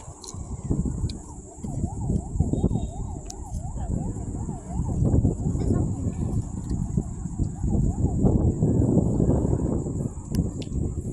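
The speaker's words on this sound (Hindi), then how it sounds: "एम्बुलेंस" An ambulance siren wails, rising and falling in a fast yelp pattern, faint beneath loud clattering street noise and people talking nearby.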